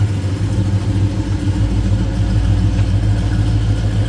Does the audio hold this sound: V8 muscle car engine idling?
yes